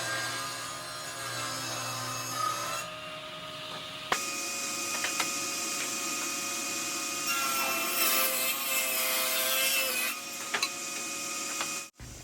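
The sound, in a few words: table saw ripping wooden boards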